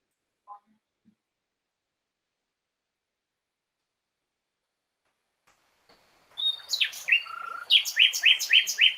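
Recorded birdsong from a songbird species with regional song dialects: a quiet near-silent stretch, then a burst of bright, rapid chirps and whistled phrases repeating in quick succession for the last few seconds.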